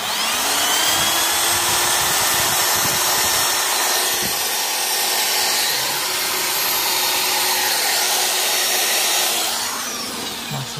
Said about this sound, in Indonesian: Kita coba sekali lagi. Hidup ya guys. Kita bebani bur.